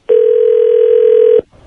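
A telephone dial tone on a call line comes through loud and steady as a single continuous hum for over a second, then cuts off abruptly and leaves faint noise behind.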